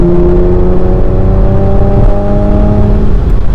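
A Porsche Macan GTS compact performance SUV engine pulls hard under acceleration from inside the cabin, a steady loud drone with rising harmonic tones and no break, with no one speaking.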